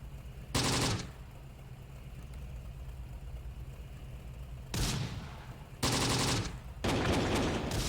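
Bursts of gunfire from the Close Combat: The Bloody First strategy game, a short volley early, then two longer loud fusillades near the end separated by a low steady engine-like rumble; no talking.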